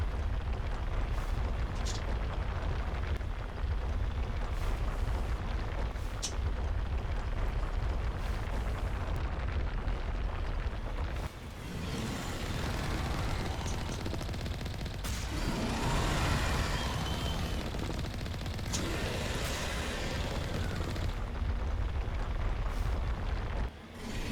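Thresher Maw attack in Mass Effect, a dense, continuous rumbling roar of eruptions and explosions with booming surges, loud and unbroken throughout.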